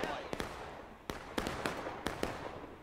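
Rifle shots crack in a Civil War multiplayer video game battle at Burnside's Bridge: about eight sharp, fairly distant reports fire at irregular intervals over a low, murky background.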